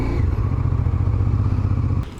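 A motorcycle on a round-the-world trip through Europe toward Russia rumbles loudly and close as it is ridden up into a parking spot, its engine throbbing steadily before cutting away at the end.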